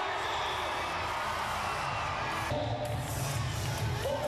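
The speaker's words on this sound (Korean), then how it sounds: "모두들 참가팀들의 퍼레이드를 환호하며 맞이한다" A crowd cheers and shouts in welcome as a parade of student teams from many countries marches past at the world Destination Imagination (DI) creativity contest, a steady, dense roar of voices with whoops rising toward the end.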